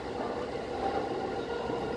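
A Keihin-Tohoku Line commuter train runs between Tokyo and Yurakucho stations, a steady low rumble and hiss of the carriage interior with no distinct clicks.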